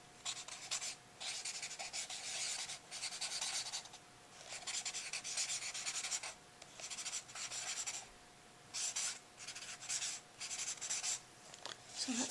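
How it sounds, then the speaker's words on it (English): A pen scratches across paper close up as a goal is written out in a quiet vitamin-shop role-play, coming in repeated strokes and bursts with short pauses between them, crisp and intimate, with no talking. "So I'm going to write that goal down."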